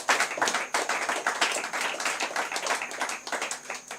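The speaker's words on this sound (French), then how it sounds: "Faut acclamer le Seigneur. Acclame le Seigneur." A church congregation claps together in acclaim of the Lord, with fast, dense, close applause running steadily throughout and no talk over it.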